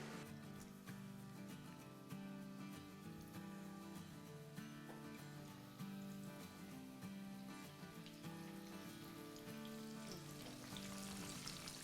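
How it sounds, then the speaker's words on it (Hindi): Onion rings frying in hot oil on medium heat, a steady soft crackle and sizzle that continues unbroken throughout, faint and close with no voices. "तो अब हम इसको फ्राई करते हैं।"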